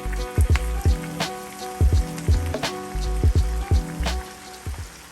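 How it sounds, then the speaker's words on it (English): Panko-coated chicken tenders frying in hot oil at about 325 to 350 degrees, a steady crackling sizzle with recurring pops and bursts close by, no talk over it. "Now I'm going into hot oil to start frying all of them."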